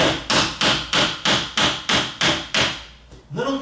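A hammer taps at a bedroom door during removal, with seven evenly spaced, sharp metallic strikes in a steady rhythm, followed by a brief voice.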